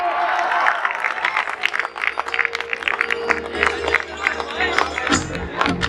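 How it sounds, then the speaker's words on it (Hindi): Guests at a college farewell party clap steadily in loud, dense applause with scattered cheers and crowd chatter. A sharper burst of noise comes near the end. "तालियां रुकनी नहीं चाहिए"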